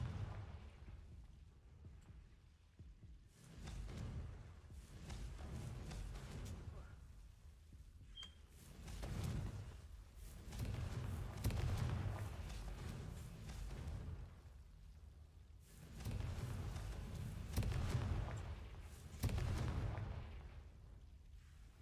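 Confringo blasting curses detonate in a Harry Potter video game: a run of deep, rumbling blasts that swell and fade in waves over about twenty seconds, mixed with game voices and other in-game sound.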